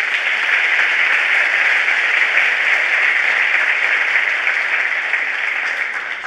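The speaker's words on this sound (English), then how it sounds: "let's give a round of applause to all of the staff and students and others who have worked hard to put this program together" An audience at a college mini medical school program breaks into loud, even applause, a thick continuous roar of clapping that holds steady before easing slightly at the end.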